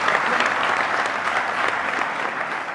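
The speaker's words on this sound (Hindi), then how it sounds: "एक बार जोरदार तालियां स्वागत करेंगे प्रधान जी का" An audience gives loud, sustained applause to welcome a guest at a gathering, a thick continuous roar of clapping that holds steady throughout.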